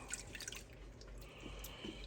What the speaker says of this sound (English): I got 1/4 cup of steaming hot water